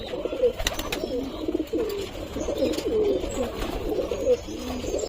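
Pigeons coo continuously inside a loft, a dense overlapping murmur of low throaty calls from several birds close by, steady and moderately loud with no speech.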